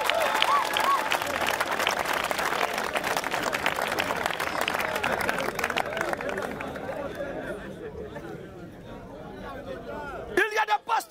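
A congregation gives a preacher sustained applause and cheers for Jesus Christ, with loud dense clapping mixed with voices that slowly fades, then a sharp handling noise at the end.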